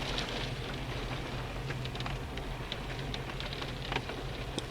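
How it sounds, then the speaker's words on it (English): Steady rain falling on a parked car, heard from inside as a constant soft patter with scattered sharper drop ticks over a low rumble, moderately quiet and continuous throughout. "We sitting in the car stuck in the rain."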